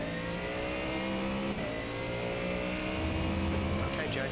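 A race car engine in the iRacing sim game revs steadily and loudly, the pitch rising and falling as the throttle works, with a brief dip partway and a climb toward the end. A voice talks quietly underneath.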